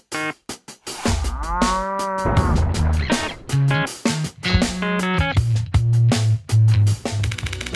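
A cow moos on a road, with a long drawn-out low call amid busy jumbled noise, followed by choppy bursts and more short bellows, loud and close.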